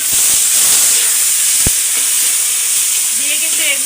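Chopped onion and dried chili fry in hot oil for a mashed side dish, giving a steady close hiss and sizzle throughout with one brief sharp crackle and no talking.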